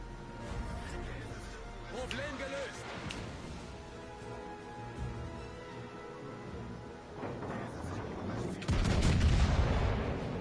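Ship cannons firing in a naval video game battle, heavy booming bursts and rumbling gunfire rolling under a continuous noisy backdrop, growing louder toward the end.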